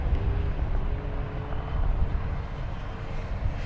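FMS F7F Tigercat RC model plane, 1700mm span with 460KV motors, flying over a valley: a continuous buzzing drone with wind rumble that swells and fades slightly, heard at a moderate distance with no talk.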